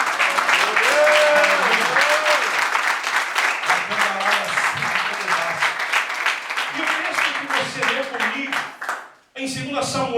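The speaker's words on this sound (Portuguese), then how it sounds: "Você pode aplaudir o Senhor Jesus" A church congregation at a worship service bursts into sustained, dense applause, loud and close, with voices calling out over the clapping before it cuts briefly and resumes.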